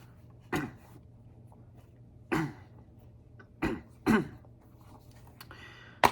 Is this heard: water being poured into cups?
no